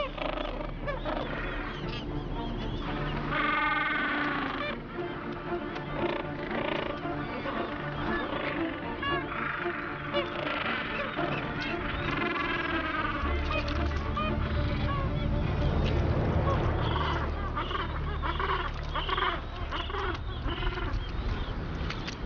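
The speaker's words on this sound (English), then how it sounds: "South Georgia hosts one of the world's biggest colonies of Gentoo penguins" Large Gentoo penguin colony on South Georgia, with dense overlapping honking and braying calls carrying on steadily throughout, loud and close with many birds at once.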